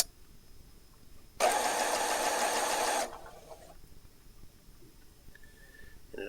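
A modern Brother sewing machine runs in one steady, fairly loud mechanical burst of about one and a half seconds, with quiet room tone before and after.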